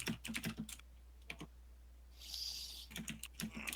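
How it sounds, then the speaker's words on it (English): Typing on a computer keyboard in the background, bursts of quick soft key clicks at low level, pausing briefly midway while a faint hiss fills the gap. "There's a lot of typing noises"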